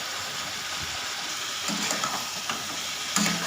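Potatoes with ginger-garlic, onion paste, turmeric and ground spices stir-fried for a Bengali pangas fish curry, a steady broadband sizzle with intermittent scraping spatula strokes against the pan, close and alone.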